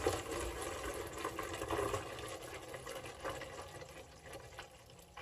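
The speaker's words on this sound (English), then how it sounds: "the only two things left to do are to add your apple juice" Homemade apple juice pours steadily into a jar, a continuous liquid trickle and splash heard up close, without talk.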